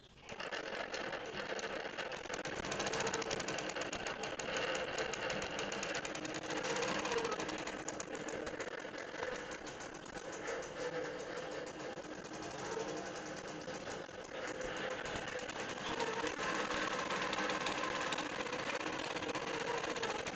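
A longarm quilting machine stitches a floral quilt with a steady, fast mechanical chatter that hums on evenly and close for the whole stretch, with no talk.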